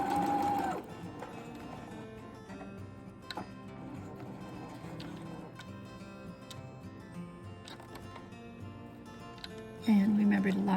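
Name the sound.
sewing machine stitching a scarf hem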